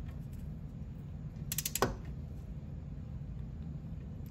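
A torque wrench on a Subaru WRX brake caliper bolt gives a quick ratcheting burst and a sharp click midway, faint against a quiet background hum.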